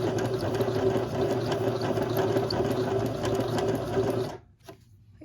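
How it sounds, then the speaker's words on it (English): A sewing machine stitches along a line in a steady, close mechanical whir with rapid needle ticks, running continuously before stopping abruptly near the end with a brief clunk. "I'm going to put my presser foot back down and continue sewing"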